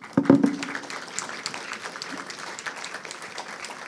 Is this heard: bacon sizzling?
no